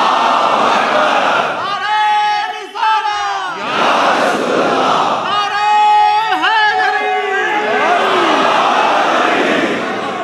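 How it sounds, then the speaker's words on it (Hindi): A large crowd at a religious majlis gathering shouts a slogan in unison, loud massed voices rising in repeated surges with brief dips between bursts. "अब एक नारे तकबीर भी तो लगाइए"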